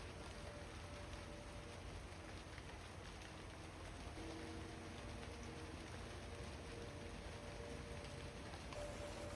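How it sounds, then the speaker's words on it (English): Rain falling steadily outdoors near the ocean, a dense, even hiss of drops with faint low tones under it, constant and fairly quiet with no voices. "Looks like the rain might have set in for the day."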